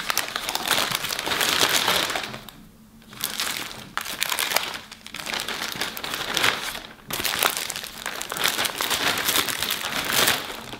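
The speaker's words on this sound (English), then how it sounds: "So I'm just throwing all of these things into this plastic bag." Birthday party items are tossed into a plastic bag, producing loud close crinkling and crumpling of plastic in repeated bursts with short quiet pauses between handfuls.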